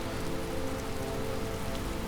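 Steady rain pours in the game Skyrim near the village of Riverwood, a dense, even hiss of falling drops with no breaks or other sounds.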